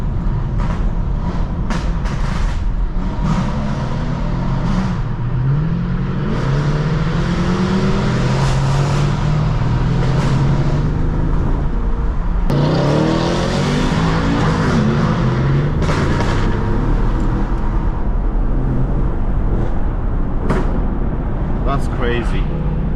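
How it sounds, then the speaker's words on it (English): Mercedes-AMG W204 engine revving on a London street, a loud, rough exhaust roar that swells and falls repeatedly, with people talking over it inside the car. "The W204 is one of the best sounding cars"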